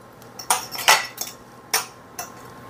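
Knife cutting through bacon-wrapped stuffed chicken breast on a plate, a few sharp clinks and scrapes of metal on ceramic spaced across a quiet background, close and clear.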